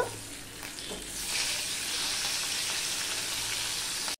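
Hilsa fish fry in mustard oil in a pan, giving a steady bright sizzle that builds slightly and holds throughout, close and alone with no voices.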